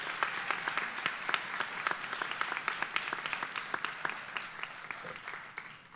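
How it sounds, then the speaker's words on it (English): A school awards day audience applauding award winners, a sustained round of clapping from a crowd, dense and steady with sharp individual claps, fading slightly near the end. "So another round of applause"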